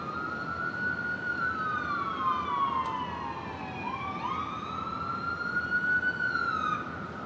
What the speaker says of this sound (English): Oh, here comes the sirens.